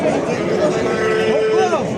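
A calf moos at a livestock market in Shoxidon, with drawn-out calls rising out of a dense crowd murmur, while people talk close by over the steady bustle.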